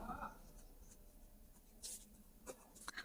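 Short scratchy writing strokes on a board or paper during an English grammar lesson, quiet and close, in a few brief bursts under a person speaking.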